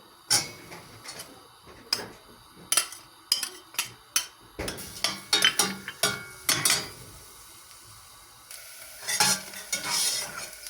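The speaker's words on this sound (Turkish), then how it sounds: "Soğan kavruldu." A dry onion sautéing in oil in a pan while a ladle or spoon stirs it, giving sharp, irregular scraping knocks over a faint sizzle, with a steadier hiss near the end.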